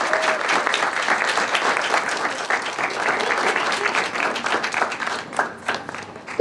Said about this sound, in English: Please give her an amazing round of applause